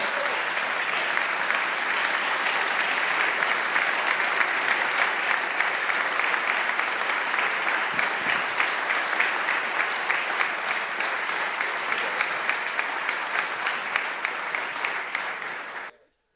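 An audience at a talk on the border crisis bursts into sustained applause, a dense, steady wash of many hands clapping for about sixteen seconds before stopping abruptly.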